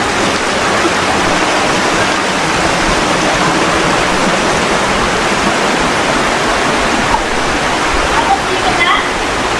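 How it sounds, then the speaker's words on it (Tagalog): Water pours over the limestone falls in Sagada, making a loud, constant, broad rushing roar close by for the whole stretch. "Galing falls yung tubig."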